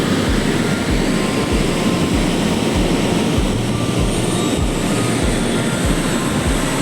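The motors of a Sharkan fishing drone spin up at startup, a loud, steady, dense whir with a low pulsing drone throughout, close by and with no voices.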